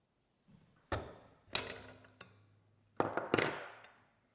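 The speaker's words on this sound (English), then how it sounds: "Now you can use the hook wrench which comes with the rifle to open the nut." A hook wrench works loose the barrel nut on a Steyr SSG rifle, producing a few sharp metallic knocks and clanks with ringing decay, spaced irregularly and heard up close in a quiet room.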